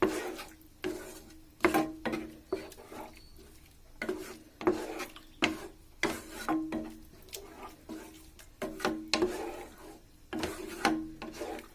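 A spoon scrapes rhythmically through tomato and onion in a pan, making a steady series of close rasping strokes with short pauses between them.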